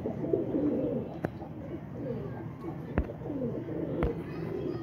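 Pigeons from a fancier's flock coo in low, rolling phrases close by, with a few sharp knocks or clicks breaking in.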